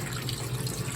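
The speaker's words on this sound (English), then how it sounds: "Then we need to turn on coolant switch." Steady coolant flowing and hissing on an automatic saw sharpening machine, a continuous close wash of liquid with a low machine hum underneath and no talking.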